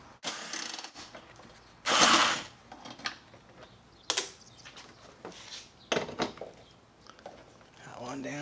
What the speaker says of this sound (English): I'm gonna take this bolt out here.